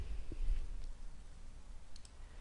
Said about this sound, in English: start by clicking on the Tools menu